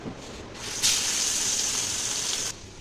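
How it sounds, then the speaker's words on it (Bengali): Rohu fish dropped into hot mustard oil in a wok gives a sudden loud, steady hiss of sizzling that holds for nearly two seconds and then cuts off sharply, over a softer background crackle. "কড়াই দিয়েছি সর্ষের তেল, তেল গরম হয়ে গেছে, দিয়ে দিচ্ছি মাছটা"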